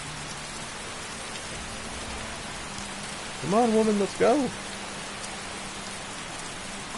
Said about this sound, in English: right now, all I hear is rain